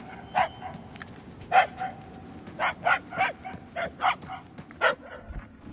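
A dog barks in a series of about a dozen short, sharp yips spaced irregularly, moderately distant against a quiet background.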